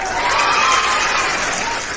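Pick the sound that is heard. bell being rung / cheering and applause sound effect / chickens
cheering and applause sound effect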